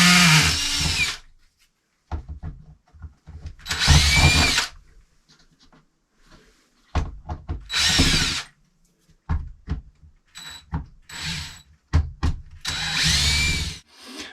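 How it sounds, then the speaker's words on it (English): A power drill drives screws into a ceiling light in a 2014 Tiffin Allegro Bus RV, whirring in several short bursts separated by quiet pauses, close and clear. "Take your drill."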